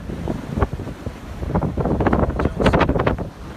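Ocean surf and gusting wind on a Topsail Island beach on a mild day, a steady rushing roar with irregular louder swells and buffeting wind noise on the microphone.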